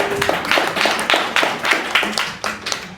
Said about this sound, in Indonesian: Tepuk tangan buat Kementerian Kegelapan.